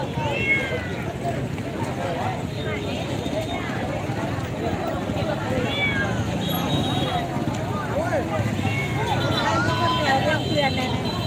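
A cat meows several times amid the busy crowd noise of an outdoor dog market in Bắc Hà, with people talking throughout and the meows partly buried under the chatter.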